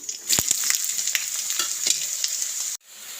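Curry leaves and onion hitting hot oil in a pan, a bright continuous sizzle with crackling pops and a few scraping stirs, close and loud before dropping away abruptly near the end.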